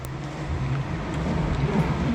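A Volkswagen Amarok 4x4 labours up a steep stony slope in the Cantal, its engine giving a steady low drone that rises slightly in effort, close and continuous with no voices.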